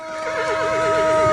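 A horse in the video game Minecraft lets out a single clear, loud whinny with a wavering, warbling pitch, heard up close and alone.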